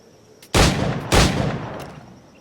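Two loud, close gunshots from a firearm in Assassin's Creed 4 Black Flag, the second about half a second after the first, each leaving a short decaying tail.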